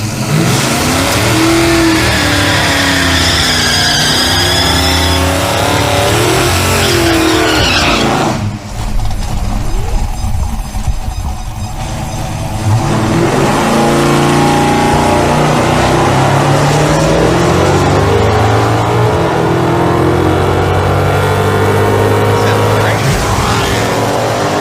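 A drag car roars down the drag strip, its engine screaming loud and close, dipping briefly as it shifts or passes, then surging back to a sustained high rev through to the end.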